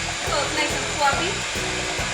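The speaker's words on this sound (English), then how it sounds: "let me get my trusty not a stand mixer and do about half a cup of butter. We'll beat that." Handheld electric mixer beating about half a cup of butter in a home kitchen, a steady motorized whir running continuously with slight rhythmic wobble as the beaters churn.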